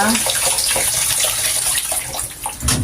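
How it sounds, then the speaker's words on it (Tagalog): Cabbage for kimchi being washed under running tap water, a loud close gush of water with splashing and handling sounds, steady, then briefly shifting near the end. "Hugasan muna natin to. pangalawang hugas na to guys ha."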